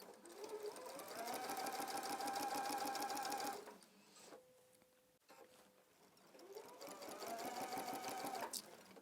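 A sewing machine stitches a waistband facing, a close, steady whirring run that stops for a pause filled with faint handling noises and then starts again at the same pace.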